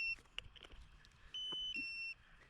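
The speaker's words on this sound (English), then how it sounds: "Low power alarm." A DJI Agras T40 drone remote sounds its low-battery alarm in a field, with short electronic beeps followed by two longer sustained tones against quiet background noise.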